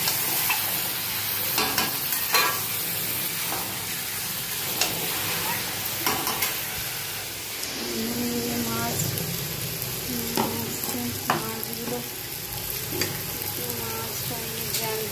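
Meat braises and fries in a pan for a home-cooked Bengali curry, a continuous sizzle with irregular scraping stirs, while someone talks at times.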